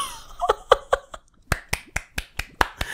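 A person claps their hands in about a dozen sharp, dry, close claps, spaced at a brisk, uneven rhythm, with brief laughter mixed into the first few.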